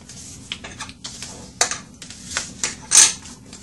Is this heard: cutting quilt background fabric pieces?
no